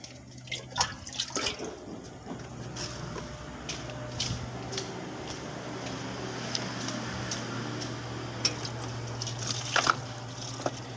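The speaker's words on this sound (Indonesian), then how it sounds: "kita siram air dulu bekas esnya" Water splashes and trickles steadily over leftover ice in a two-door refrigerator that is not cooling because of an iced-up evaporator, with scattered drips and small clinks, under a low constant hum, fairly quiet and close.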